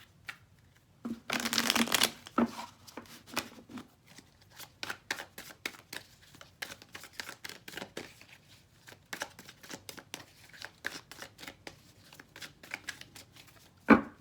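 Cards being shuffled up close, a dense riffling burst followed by many quick crisp flicks and taps scattered throughout, with no talking.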